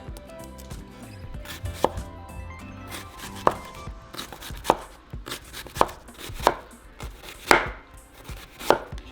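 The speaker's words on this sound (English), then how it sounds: "now we're going to cut it into half moons" A knife slices a purple onion into thin half moons on a cutting board, giving a close, loud run of irregular chops and taps with short pauses between strokes.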